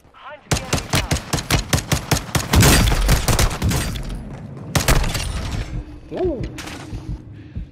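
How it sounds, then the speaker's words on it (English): Rapid bursts of automatic gunfire and heavy mortar strike explosions in the video game Call of Duty Warzone 2, loud and dense, with a rattling string of shots followed by booming impacts and a falling whistle-like tone near the end. "Our mortar strike is inbound."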